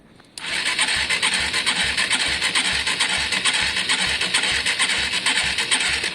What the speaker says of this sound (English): Let me fire this bike up so that we're all charging